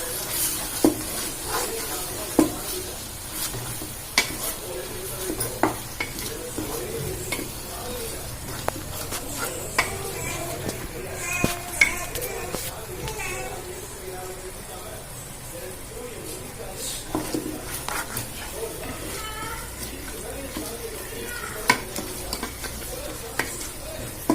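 Ginger paste sizzles and is stirred in a hot pan, with steady frying hiss and intermittent scraping clicks of a utensil, no voices.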